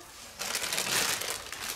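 Close, crisp crinkling of thin plastic being handled, a brief rustling burst that starts suddenly and continues unevenly.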